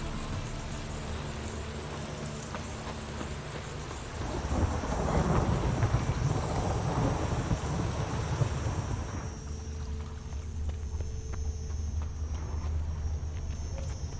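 Rain and thunder in a town in The Witcher 3: steady heavy rainfall with a loud rolling thunder rumble swelling in the middle and fading, then continued rain.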